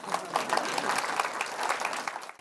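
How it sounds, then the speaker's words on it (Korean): Students in a classroom give a short burst of dense, steady applause, moderately loud and close, with a few faint voices mixed in. "박수 치세요."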